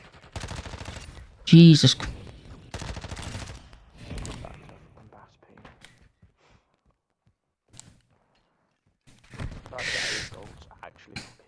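Gunfire bursts in a ranked Rainbow Six Siege match: a loud shot around the two-second mark, a rapid volley soon after, and another burst near the end, with someone talking in between.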